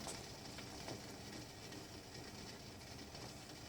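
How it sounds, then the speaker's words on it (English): A faint, steady rumbling hiss of a pot of bacon grease nearing the boil, continuous and low with no clear bubbling yet. "when it starts to get ready to boil, it will sound like this"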